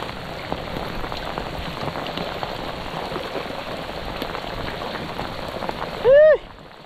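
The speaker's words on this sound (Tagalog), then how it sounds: "Grabe yung ulan mga master." Heavy rain patters and hisses steadily throughout. Near the end, a brief, loud rising whistle-like tone cuts through.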